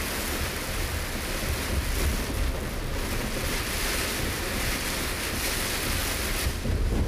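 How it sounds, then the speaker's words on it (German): A heavy storm of rain and hail, with wind and thunder, beats down in a steady, dense wash of noise that stays even and fairly quiet, with no speech heard. "Das ist ja ein Unwetter hier."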